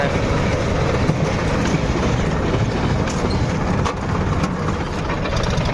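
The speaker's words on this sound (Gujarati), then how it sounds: "રેલગાડી આવી ગઈ" A train rolls past close by, a loud, steady broadband rumble with rail noise holding level throughout and dipping only briefly near the end.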